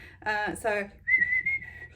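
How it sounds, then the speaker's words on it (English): Soft whistling, two warbling phrases followed by one steady held note, close and fairly quiet. "But I can also whistle like this"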